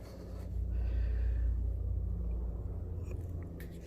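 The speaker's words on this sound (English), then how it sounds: "the nitrous flowing" Nitrous oxide rushes out of an opened 12-ounce bottle during a purge on a Suzuki GSX-S1000 motorcycle nitrous install, a steady low rumbling hiss that holds for several seconds and then eases off near the end.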